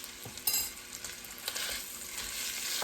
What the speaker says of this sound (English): I'm going to brown up this sausage really, really good